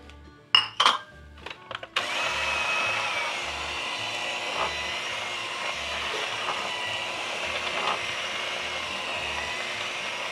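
An electric mixer creaming butter and sugar for an apple walnut cake runs with a steady, loud motor whir after a few brief bowl clatters at the start, continuing unbroken with slight fluctuations.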